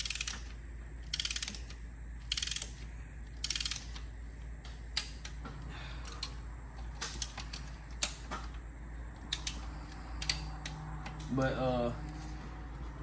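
A torque wrench clicks and ratchets in a rapid series of short, sharp bursts while tightening ARP engine bolts during a rebuild of a 2017 Camaro SS 1LE in a garage, with mechanical clatter between the passes.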